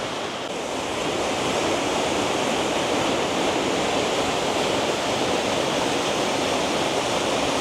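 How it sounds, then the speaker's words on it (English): A small waterfall at McCloud Creek in Northern California, with a short drop, gives a steady, loud broadband rush of falling water that holds unbroken from start to end, with no voices. "the waterfall is not falling very far"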